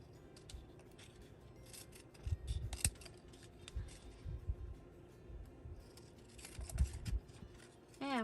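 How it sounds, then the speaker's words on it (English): Scissors cut paper strips with quiet snips and rustles near the mic, spaced irregularly across several seconds, with occasional handling noise of the paper. "I'm going to go along and cut my pieces on the outside"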